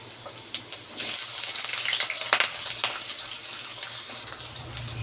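Potatoes fry in a pan for a lai sag and potato dish, a steady close sizzle and hiss that swells loudly about a second in and holds through the end with small crackles.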